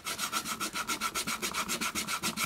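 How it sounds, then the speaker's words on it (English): Sandpaper rubbed back and forth over small wooden pieces, a close, steady rhythmic scratching with about a dozen even strokes and no voices. "I think I might sand these down just slightly"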